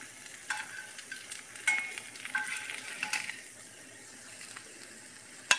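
Potato cakes, essentially hash browns, frying in bacon grease in a pan, with a soft steady sizzle and a few scraping stirs, fairly quiet and without talk.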